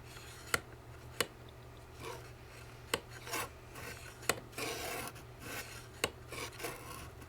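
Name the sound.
Lucy Clay Mini Slicer rubbing while cutting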